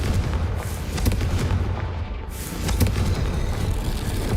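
In Hogwarts Legacy, a Confringo fire spell sets off a loud, rumbling explosion with repeated booming blasts and a dense roar that holds for several seconds, dips briefly, then surges again.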